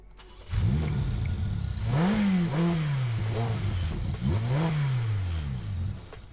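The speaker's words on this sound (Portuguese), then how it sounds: "Entramos aqui dentro do carro, vamos ver o barulho do motor." A Ferrari engine in the Racing Master mobile game revs up and down in repeated rising and falling sweeps, loud and close, heard alone without talk.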